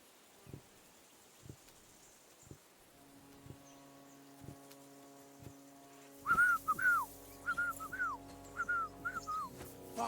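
A character in the medieval video game Kingdom Come Deliverance 2 whistles a short wavering tune, a few bright rising-falling notes near and clear after a stretch of soft footsteps and quiet ambience.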